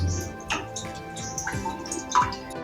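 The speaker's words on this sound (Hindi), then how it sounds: "देखो, इसको कितना भी टाइट करूँ, ये टाइट करने के बाद भी ये पानी लीकेज इसके अंदर से हो ही रहा है।" A leaking water tap drips steadily after being tightened, with a few soft, close drip and tick sounds spaced irregularly over a faint background.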